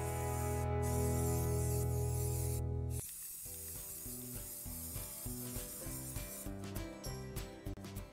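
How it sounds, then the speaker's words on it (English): Aerosol spray can applying white primer to a wooden bird house, a loud steady hiss for about three seconds, then shorter intermittent bursts with music playing underneath. "I followed spraying white primer onto the house"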